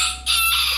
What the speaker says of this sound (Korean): 닭이 우는 거예요.